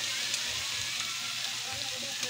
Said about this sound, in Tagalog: Ilalagay na po natin ang hipon para po igigisa na natin siya sa ating butter.